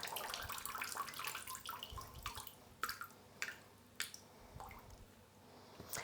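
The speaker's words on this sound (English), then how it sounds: "Just give them some water." Water poured onto potted Alocasia plants, a steady splashing and trickling with soft drips and wet soil squishes throughout, fairly close and alone.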